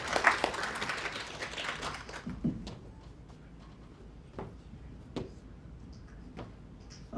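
Audience applause at a startup demo day fills the opening two seconds as a dense, fairly close wash of clapping, then drops to a quiet room with only a few scattered claps and small ticks.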